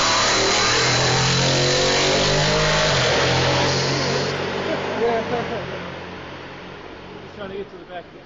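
Race car engine at Lime Rock track: a loud, revving mechanical roar up close that gradually fades as the car pulls away, with voices talking over it.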